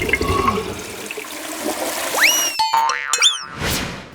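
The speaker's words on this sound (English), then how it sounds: "What was your favourite bit about seeing how a toilet flush worked?" A toilet flushing, a rushing swirl of water that fades, followed by rising and springy boing-like tones and a final whoosh, fairly loud and close with no talk.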